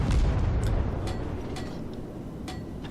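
Deep booming naval gunfire from a US Sampson destroyer's battle in World of Warships, with heavy low rumble up front followed by a few sharp cracking reports spaced apart, mid-distance and moderately loud.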